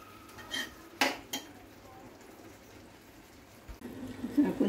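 Prawn masala seasoned with salt and turmeric is stirred in a pan, a spoon scraping and clinking a few times against the metal over a low sizzle, with louder bursts of stirring near the end.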